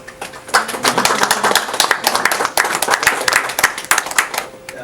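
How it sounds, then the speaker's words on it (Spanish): Applause from a crowd, dense and steady clapping filling the whole stretch at close range. "ordenle un fuerte aplauso a Walter"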